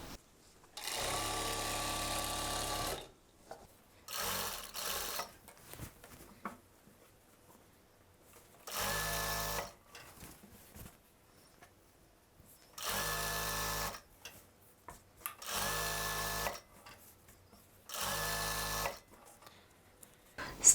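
Sewing machine stitching the inseam of salwar pants at half an inch from the edge, running in several bursts of steady whirring lasting two to three seconds each, separated by quiet pauses, close and fairly loud.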